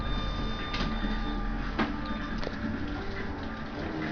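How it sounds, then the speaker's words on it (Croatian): A tattoo machine works a needle into the skin of a ribcage, a steady close electric buzz broken by a few sharp clicks and knocks, and no voices. "Nek se baš vidi kako igla dere kožu"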